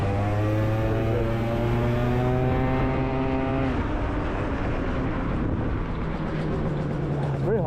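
A fully modified BWS 125cc scooter with a Malossi big bore kit and 22mm carb runs loud and close, its engine holding a steady buzzing drone before the pitch drops and the tone turns rougher and noisier.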